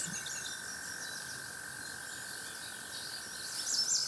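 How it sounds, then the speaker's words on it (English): A loud frog calls from across a river, a steady pulsing trill holding on a single pitch throughout, with faint birds and insects around it and no talking. "there's a really loud frog."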